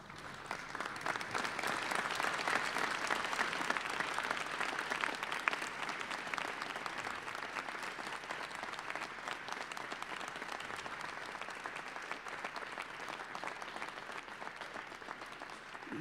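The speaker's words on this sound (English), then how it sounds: "would you please stand and give everyone a big round of applause for all that they've done to get you here" A commencement audience at the University of Iowa Graduate College applauds its graduates: sustained, full-room clapping that holds steady for many seconds, with no voices on top.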